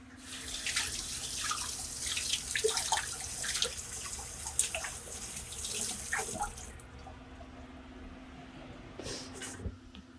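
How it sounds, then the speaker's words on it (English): Hands being washed under a running kitchen tap after handling raw meat, a steady close splash of water into the sink that eases off near the end. "That is raw meat, so we're washing our hands, folks."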